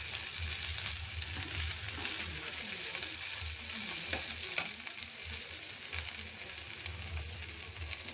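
Okra frying in a pan, a steady dense sizzle with occasional stirring scrapes, close and continuous throughout.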